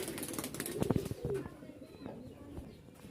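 Giribaz pigeons coo at a pigeon fair in Rajshahi, a few low rounded calls standing out near the start over faint crowd murmur and background chatter.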